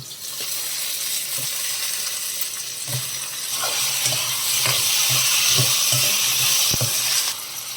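Chillies, curry leaves and tubers fry in hot oil in a pan, a loud continuous sizzle and hiss with occasional spoon scrapes and stirring knocks, intensifying midway before easing near the end.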